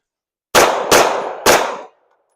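Three sharp pistol shots from a handgun drill, two to the chest and one to the head, fired at a deliberate pace with a short gap before the last; each crack is loud and close, with a brief ringing decay.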